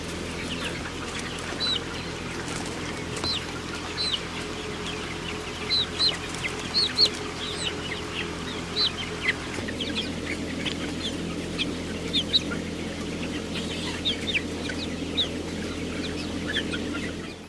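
Broiler chickens cluck steadily in a shed, many overlapping calls over a constant low ventilation hum, with brief sharper squawks scattered throughout.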